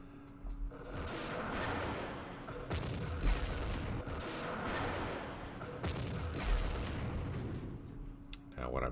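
Recoilless rifles fire in the Vietnam-era wargame Campaign Series Vietnam during the Battle of Hue, a dense run of booming shots and rumbling blasts that keeps going steadily, loud and close, with a voice talking underneath.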